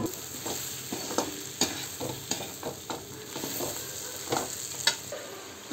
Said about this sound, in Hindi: तो हम इसमें डालेंगे ये तली हुई कटहल।